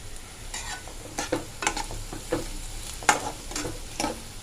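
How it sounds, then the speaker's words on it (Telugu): Onions fry slowly in a pan with a continuous soft sizzle, punctuated by intermittent close scrapes and taps of a stirring utensil. "ఉల్లిపాయలు వేగుతున్నాయి స్లోగా"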